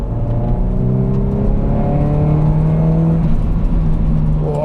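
A 1999 Ford Focus 2.0 16v petrol engine revs up repeatedly, its note rising and falling in several climbs over a loud, continuous drone, close by and without talk.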